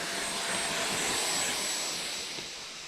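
A Freewing Vulcan 6s EDF model jet takes off, its electric ducted fan giving a loud, steady high-pitched whoosh that holds and then slowly fades as it climbs away.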